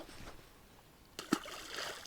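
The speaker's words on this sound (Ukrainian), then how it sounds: "прикормочку замішав і буду кидати в воду" Fishing groundbait thrown into a lake lands in the water with one short, soft splash, surrounded by quiet outdoor ambience.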